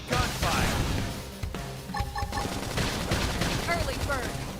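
Gunfire in the Xenoblade Chronicles X video game combat, a burst of rapid shots and impacts mixed with battle effects and game music, with character voices calling out during the fight.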